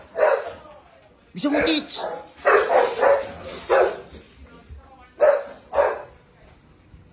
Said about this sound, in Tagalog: Ang ingay kasi ng aso eh!